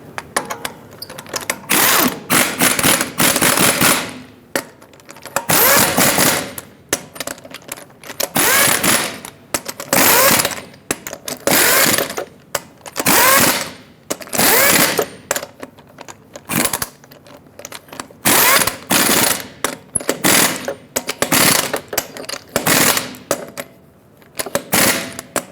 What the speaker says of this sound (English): Install all 8 of your lug nuts. Bottom them out in a cross pattern